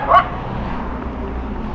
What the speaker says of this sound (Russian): собачка там